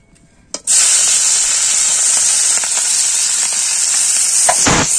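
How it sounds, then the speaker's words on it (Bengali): Prawns hit hot oil in a pan and start to fry, setting off a loud, dense, steady sizzle that holds for several seconds with small crackles and no talking. "এবার চিংড়ি মাছটা আমি একটু ভেজে নেব।"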